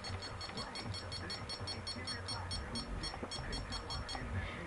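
Atomic alarm clock giving off rapid, evenly spaced electronic beeps after its alarm button is pressed, quiet and steady over low background rumble.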